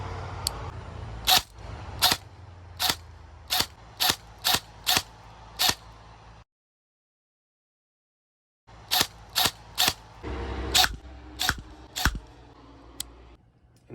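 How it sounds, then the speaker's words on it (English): An airsoft gun fitted with a homemade suppressor fires a series of sharp, muffled clicks and pops, about eight quick shots, a short silent gap, then another burst of similar shots, close and alone. "and we're gonna shoot it on with the suppressor."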